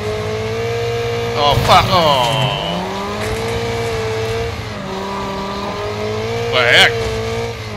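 Car engine roaring and straining in the demolition racing game Wreckfest, a battered heap with barely attached wheels, revving steadily with pitch swoops and louder crash-like bursts near 2 and 7 seconds, while a man exclaims over it.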